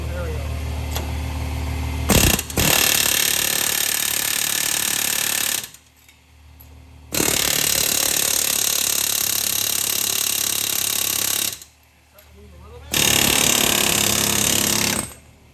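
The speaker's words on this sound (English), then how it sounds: "Should get stud loose. Loosen up the stud. Look at that. Wow. Good air hammer." A pneumatic air hammer works a front wheel stud loose on a 2007 Chevy Silverado 1500, rattling loudly and close in three long sustained bursts separated by brief pauses.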